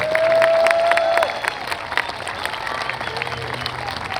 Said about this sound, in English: one more round of applause for the Brass Sax Ensemble.